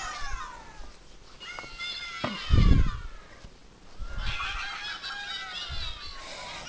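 A yellow Angry Birds keyring toy plays its electronic sound effects: a series of squawking, chirping bird-like cries with a couple of louder bursts, close and alone without speech.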